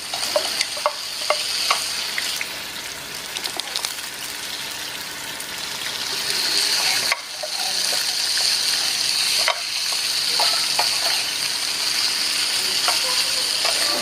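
Fried chicken sizzles in masala in a pan, a constant close hiss with scattered stirring scrapes and taps, briefly dropping twice before the loud frying resumes; no one speaks.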